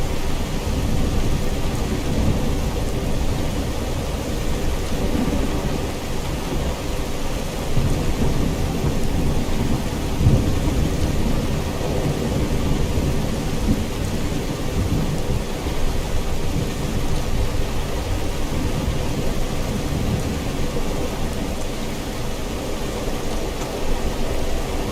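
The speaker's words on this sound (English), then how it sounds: "Quite a little storm there." Thunderstorm in the video game Skyrim, with dense, steady rain hiss and a low rolling thunder rumble throughout, loud, continuous and enveloping, with no voices.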